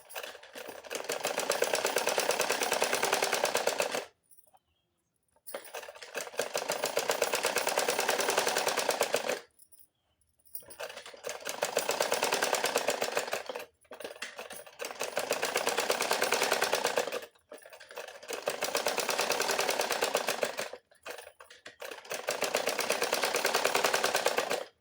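A sewing machine stitches a garment seam, likely a matka-style neckline, running in steady bursts of roughly four seconds separated by short pauses, close and fairly loud, with no talking.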